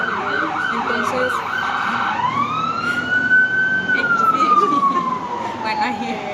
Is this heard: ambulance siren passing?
yes